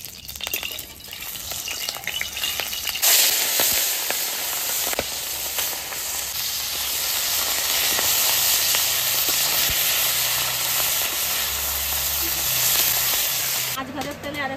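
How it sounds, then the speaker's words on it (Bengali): Tangra fish fry in hot oil in a pan: after a few seconds of quieter kitchen clatter, a loud, close, bubbling sizzle bursts in and continues steadily with occasional spits and crackles. "আমি ট্যাংরা মাছটা ভেজে নেব,"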